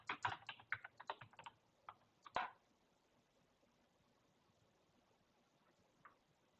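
Typing on a computer keyboard, a quick flurry of close, light key clicks for about two and a half seconds, then near silence with one last faint tap.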